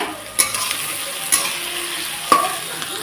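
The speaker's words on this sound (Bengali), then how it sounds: "তো এখন পেঁয়াজটাকে সুন্দর করে লাল করে ভেজে নেব" Onions sizzle steadily in a hot pan while a spoon stirs them, with a few sharp scrapes and clinks against the metal. The sound is close and continuous, and no one speaks.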